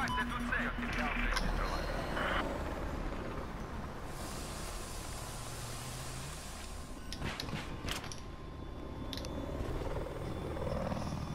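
An attack helicopter in a first-person combat video game, a continuous loud rotor and engine drone throughout, with mechanical clanks and sliding noises on top and players talking over it.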